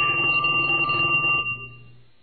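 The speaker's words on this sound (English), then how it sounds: "Your phone's ringing." A telephone rings once, loud and close, with a sustained electronic bell tone that cuts off and leaves a brief low hum.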